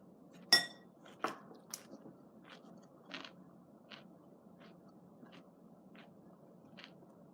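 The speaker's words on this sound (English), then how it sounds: "I don't know if you can hear me munching." Someone munching food close to the mic, with a few crisp bites and clinks of dishes or cutlery early on, then quieter chewing sounds spaced every second or so over a soft background hum.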